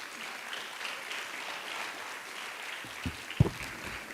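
Audience applause at an education event welcoming the Vice President of Sierra Leone: soft, distant clapping from a large hall, low and steady, with a couple of sharp thumps near the end.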